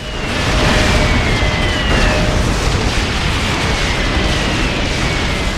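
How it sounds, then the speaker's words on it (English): A continuous roaring barrage of 60 rockets firing one after another in the video game The Outfit, dense and loud throughout, with rapid blasts, whooshes and faint whistling streaks overhead. "the noise of 60 rockets firing off one after the other"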